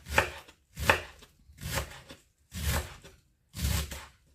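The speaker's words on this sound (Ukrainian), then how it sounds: "А оце, де дрібненькі, ще такі тоненькі листочки, це все нарізаємо" A knife chops finely through thin, tender, crisp leaves for a quick salad, five loud rhythmic bursts of cutting spaced about a second apart, close and clear with no talking.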